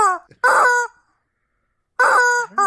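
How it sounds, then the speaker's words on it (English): Squeaky rubber chicken dog toy giving two loud, close, strained squawks separated by a pause of silence, the second followed by a shorter squeak. "Yeah, the rubber chicken."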